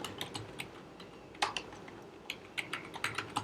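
Code being typed on a computer keyboard: steady, irregular runs of crisp, close key clicks with a few sharper strikes, no voices over them.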